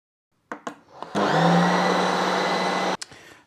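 A Ninja Creami machine spins a tub of frozen ice cream with a few clicks, then a loud, steady, vacuum-like whirring drone that cuts off abruptly with a final clunk.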